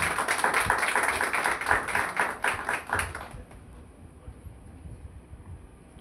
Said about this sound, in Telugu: అందరూ చప్పట్లు కొడితే మరి పాస్టర్గా ఆహ్వానించుకుంటాం